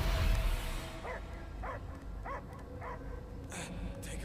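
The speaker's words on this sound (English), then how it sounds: "I hear only barking." A dog in the Guardians of the Galaxy video game barks in a short series of five or six evenly spaced barks. The barks are moderately loud and follow a burst of noise, over a low ambient game backdrop.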